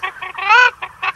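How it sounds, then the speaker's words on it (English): A farm chicken gives a quick run of short clucks with one longer, higher squawk in the middle, close and clear with no background. "Galinha."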